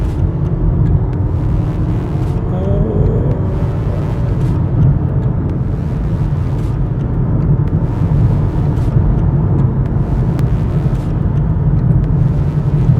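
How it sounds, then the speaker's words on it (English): A 2017 BMW X1 xDrive28i accelerating in manual mode in third gear, a loud, steady low engine drone and road rumble heard from inside the cabin, no voices. "Manual mode, third gear."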